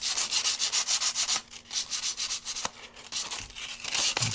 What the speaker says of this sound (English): And just gently sand.